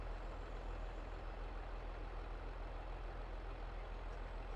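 A truck unloading in Farming Simulator 22 gives off a steady, dense engine rumble and whooshing machinery noise, constant and unbroken throughout with no talk.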